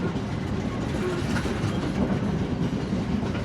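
A train pulling out of Aluthgama railway station in Sri Lanka gives a steady, loud rumble of wheels and carriages heard from on board, with faint clickety-clack over the whole stretch.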